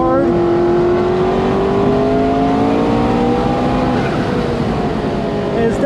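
A 600hp McLaren sports car engine on a race track holds a loud, continuous roar, its pitch gradually climbing and easing as the car pulls through the revs.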